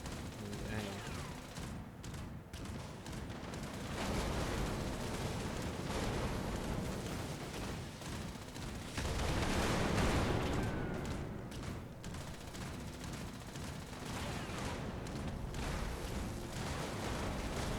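Gunfire crackles through a Fallout 76 raid in the video game, dense overlapping bursts and blasts rolling on continuously with surges of louder fire, under steady talk.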